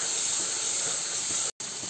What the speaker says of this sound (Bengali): তেলে জিরার ফোড়নটা হয়ে গেলে এর মধ্যে আমি এই মিশ্রণটা দিয়ে দিচ্ছি